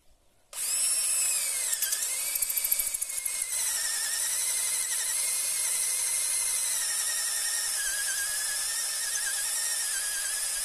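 A power drill starts abruptly and whines at a high pitch, dipping in speed briefly as it bites, then runs steadily and loudly throughout, while building raised beds.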